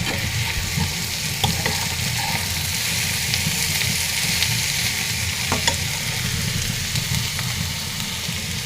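Beetroot, cabbage, turnip and shrimp fry in oil in a pan, producing a steady close sizzle and crackle with a few louder spits, running unbroken throughout.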